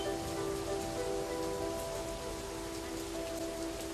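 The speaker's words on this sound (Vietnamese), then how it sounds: "Những cơn mưa mùa hè chợt đến sớm ở thung lũng heo." Heavy summer rain pours steadily over a valley, a dense even hiss of drops on surfaces that goes on throughout, with a low tonal hum underneath.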